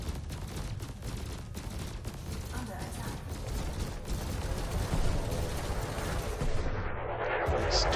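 A Guardian fighter aircraft strafes with gunfire in World of Warships Legends, a dense rattling barrage of rapid shots and rumbling impacts that builds into a roaring wash, with a voice talking over it.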